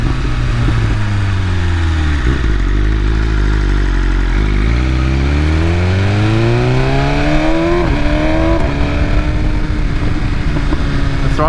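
A 2021 BMW M1000RR superbike with a flashed ECU revving hard and pulling through the gears, its loud engine note climbing in pitch, dropping at each shift, then rising again, close and continuous with no speech.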